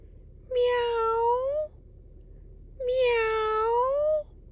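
A cat meows twice, each call long and drawn out, close and clear, separated by a short quiet pause.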